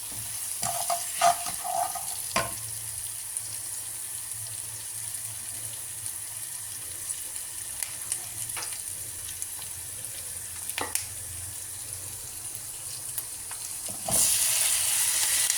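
Onion, garlic and masala frying in hot oil for a gravy, a faint steady sizzle with a few clinks and scrapes, water running near the end, no talk.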